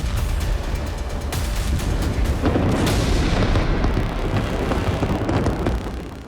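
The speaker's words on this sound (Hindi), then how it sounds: "कहीं जोरदार धमाकों के साथ आग का गुब्बार उठता नजर आया।" Israeli airstrikes set off explosions in southern Lebanon, heavy booming blasts and a rolling rumble with sharp cracks heard at some distance, smeared by wind noise on the microphone.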